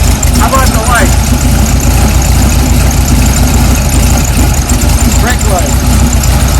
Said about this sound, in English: Starts right up, runs good.